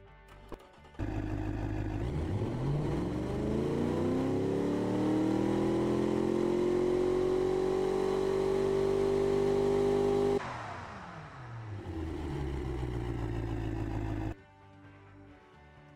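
A Shelby Cobra 427 engine in the Automation car game revs up in one long rising, buzzing climb, drops off sharply and then holds a lower steady drone before cutting out, loud and alone.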